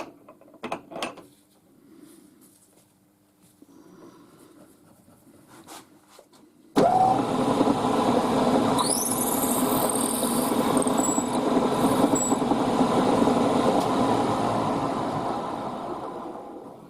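The knee of a milling machine is cranked down in a workshop where a WW2 windscreen bracket is being machined, giving a steady loud mechanical grinding and whirring for about ten seconds after some quiet, scattered clicks.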